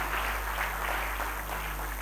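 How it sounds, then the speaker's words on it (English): Steady applause from a large audience at a corporate diamond-industry forum, a dense, even wash of clapping sustained throughout without a break. "a big round of applause to all of you"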